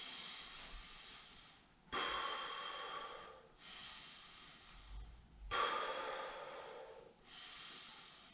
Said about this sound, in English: Inhale deeply